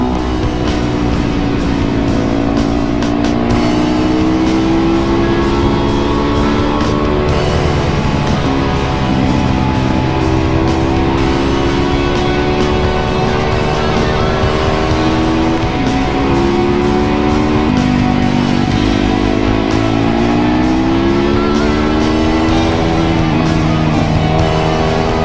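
A Yamaha YZ450 or Suzuki DRZ 400SM supermoto engine runs loud and close for a long stretch, with steady revving whose pitch rises and falls in waves, harsh and mic-overdriving.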